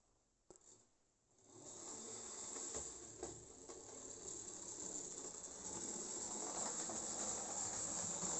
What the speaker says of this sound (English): I shouldn't be running this noisy locomotive at night.